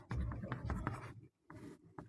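A pen or marker writes letters of the alphabet on a board in short scratchy strokes, one burst after another with a brief pause in the middle, faint and close.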